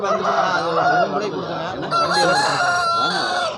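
Roosters crow repeatedly and loudly at a busy village rooster market in Kavundapadi, several birds overlapping close by with clucking and honking fowl mixed in.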